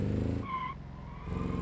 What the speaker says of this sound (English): I love the screeching of the tires.